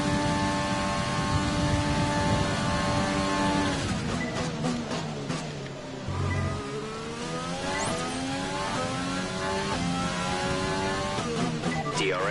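Formula 1 racing car engine in F1 2020 at the Azerbaijan Grand Prix, with a high, steady engine whine that sweeps up through the gears, rising in pitch again and again as the car accelerates, heard loud and close with no talking.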